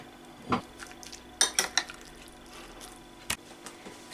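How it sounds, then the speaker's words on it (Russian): Clinks and scrapes of a utensil against a bowl as marinated eggplant is stirred, a few sharp taps spaced irregularly over a quiet background. "Еще раз все перемешиваем."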